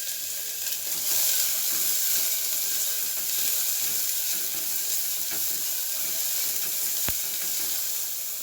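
Carrot, beans and potato hiss and sizzle in a hot pan for a palak vegetable bath, a steady close frying crackle with faint stirring and one sharp tap.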